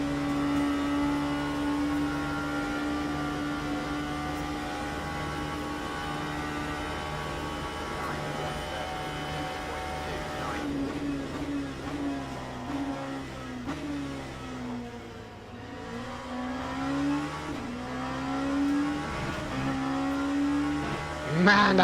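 An LMP2 prototype race car at Daytona in a racing video game, its engine droning loud and steady, then dipping and climbing back through the revs as gears change.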